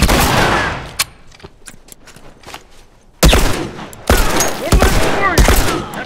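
Shotgun blasts in The Last of Us ring out in a firefight: a loud burst, then scattered smaller cracks and shots, then two more heavy bursts near the end, with shouting voices mixed in.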